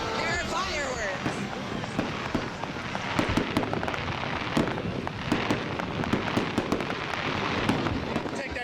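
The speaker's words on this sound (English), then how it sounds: "There are fireworks." Fireworks go off at a street protest in Baltimore, a rapid string of sharp crackling pops and bangs at moderate distance, heard under a crowd chattering and shouting.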